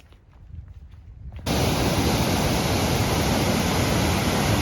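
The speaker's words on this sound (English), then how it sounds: "one of the prettiest waterfalls in the peak" The waterfall at Monsal Dale Weir in the Peak District gives a steady broadband rush of falling water. It starts faint and distant, then jumps suddenly to a loud, close, constant roar that fills the rest of the stretch.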